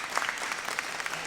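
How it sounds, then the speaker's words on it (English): Audience applause for middle school jazz combos at a winter school band concert, a steady dense patter of many hands clapping filling the short stretch at moderate level. "Give them a round of applause for combos."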